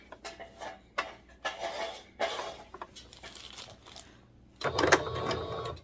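A sewing machine runs in short bursts while top stitching along the edge of fabric on a daisy top, with pauses between runs and a louder, fuller stretch of stitching at the end.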